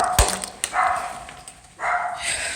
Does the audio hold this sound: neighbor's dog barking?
yes